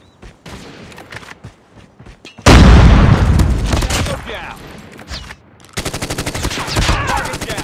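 Frag grenade exploding in the mobile shooter Call of Duty Mobile: one sudden, loud, close blast that rumbles away over a couple of seconds, followed by a burst of rapid automatic gunfire.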